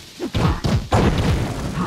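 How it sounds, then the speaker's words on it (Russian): Bomb explosions strike a monster in the video game Trove, a series of heavy thuds and booming blasts that come quickly one after another, loud and close, with no speech. "Да, и он получает взрыв."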